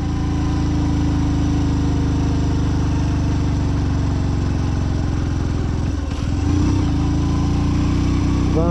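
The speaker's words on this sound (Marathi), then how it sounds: "गाडी लोड येतो असे चढ आले की." A Hero Passion Pro motorcycle engine labours up a steep climb on a high mountain road on a ride to Ladakh, a loud, close, continuous drone that holds steady throughout with no voices.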